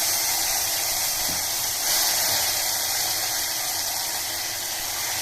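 Onion and tomato paste sizzling in a hot pan for a mutton liver curry, a steady close hiss of frying that rises briefly and holds throughout with no talk.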